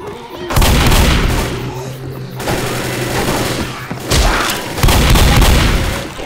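Rapid gunfire rattles in Left 4 Dead, loud close bursts of shots with heavy booming thuds that pause briefly and then resume, while players' voices come through faintly underneath.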